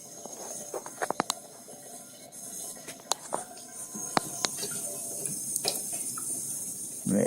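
Water pours steadily into a container with a soft hiss, close and moderately loud, broken by scattered clicks and small splashes, with a louder gush at the very end.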